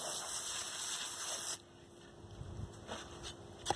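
Water sprays from a hose into a concrete mix for about a second and a half as a steady hissing gush, then cuts off to quiet scraping and faint mixing sounds.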